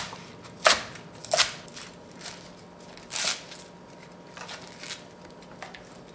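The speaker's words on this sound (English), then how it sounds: "Cut this. Bite-sized pieces." A knife cutting seafood into bite-sized pieces on a board for spicy seafood noodle soup, with several sharp, separate chopping taps spread unevenly over quiet kitchen background.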